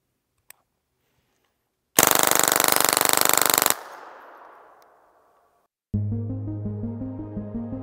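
An AM15 .22LR rifle fires a long fully automatic burst, a dense, loud rattle lasting nearly two seconds that rings out into a decaying echo. A quick tick comes before it, and another rapid string of shots starts near the end.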